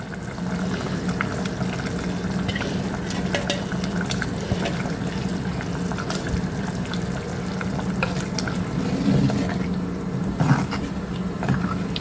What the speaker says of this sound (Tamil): இப்போ குழம்புல போட்டுறேன் மீன்